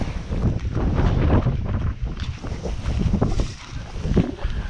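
Strong wind of about 50 km/h roars across the microphone on a fishing boat on the Vilaine, a loud, steady buffeting rumble with shifting gusts throughout.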